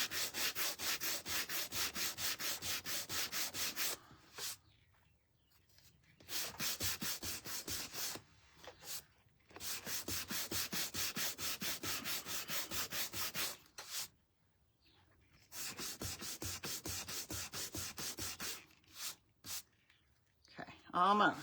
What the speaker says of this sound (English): I do want to kind of sand down to the wood a little bit so we can see some of that wood come through